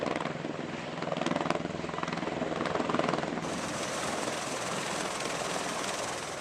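A US presidential Marine helicopter's rotor thumps and whines in a continuous loud drone, its pitch and texture shifting partway through as it flies past.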